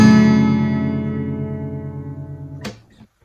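A single strummed guitar chord with open strings from a song rings out sustained and slowly decays, followed by a brief muted scrape near the end.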